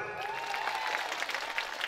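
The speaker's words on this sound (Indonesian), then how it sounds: "Tepuk tangan dulu." A crowd claps steadily throughout, dense continuous applause filling the room at moderate volume.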